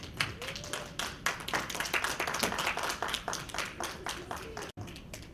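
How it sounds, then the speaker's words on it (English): Audience applause for Cecile Johnson, founder and president of African Development Plan, at an event on the state of Black Chicago: scattered, moderately loud clapping with some sharp individual claps, fading briefly near the end. "Please give her a round of applause."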